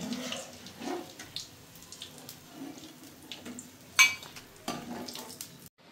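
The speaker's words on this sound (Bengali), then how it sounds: "সেমভাবে আবার সবগুলো এইভাবে দিয়ে ভেজে নিব" White Sesbania (bakful) flower pakoras frying in hot oil, a soft continuous sizzle with scattered crackles and one sharper burst of bubbling, no talk.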